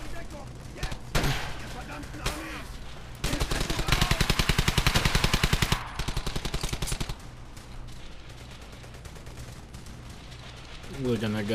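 Gunfire in the World War II shooter game Brothers In Arms: Hell's Highway: scattered single shots, then a loud, rapid machine-gun burst lasting a few seconds, followed by more sporadic firing, with a voice heard at times.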